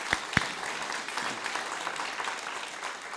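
Audience applause at a Tirobhava festival gathering for a spiritual teacher, a full, steady round of clapping from a crowded hall, with a couple of sharper claps near the start.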